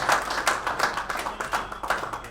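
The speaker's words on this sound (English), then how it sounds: "Can we give a better round of applause" An audience at a Rotary Club of Ikeja event claps in a brisk, fairly rhythmic round of applause, close and moderately loud, with no voices over it.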